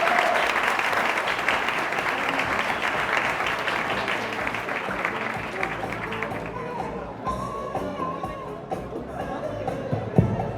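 Sustained applause from a conference audience after a Spanish-language talk on e-commerce and spatial computing, dense and loud at first, then thinning out as scattered claps and murmuring voices take over.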